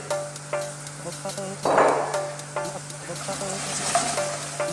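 Red chilli, lime leaves, chopped onion and ginger mixed in a hot pan, a steady sizzle under repeated knocking and scraping of the spoon, with one louder rustling burst as the ingredients are tossed together.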